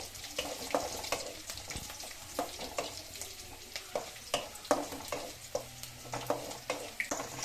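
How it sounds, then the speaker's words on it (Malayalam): Ingredients for lemon pickle sizzle in a pan while a spoon stirs them, giving a steady frying hiss broken by repeated scraping clicks and taps at an irregular pace, close and moderately loud. "ഇനി നമുക്കിതെല്ലാം കൂടി ഒന്ന് വയറ്റി കൊടുക്കാം"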